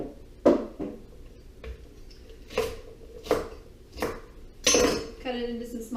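Knife cutting the base off celery for chicken stock, several distinct chops on a cutting board spaced about a second apart, close and crisp, with clinks of kitchenware and a quiet voice in between.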